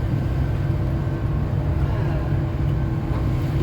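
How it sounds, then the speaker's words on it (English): A Go Ahead London Gemini bus, LF52 ZRX, rumbles along on a bumpy ride, its low, steady engine and road noise filling the interior continuously at close range. "This bus is really bumpy and I really love it."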